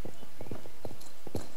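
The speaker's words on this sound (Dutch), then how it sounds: "die paarden die maken anders geluid wanneer ze geen zadel hebben." Horse hooves clip-clopping at a walk in the video game Star Stable Online, an unsaddled horse, with a steady run of distinct close hoof beats sounding alone.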